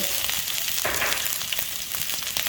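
Ginger hits hot clarified butter in a pan with a busy crackling sizzle that swells briefly, then keeps popping steadily and close; no talk is heard.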